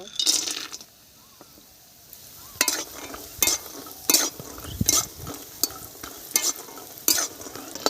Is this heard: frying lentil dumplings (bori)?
yes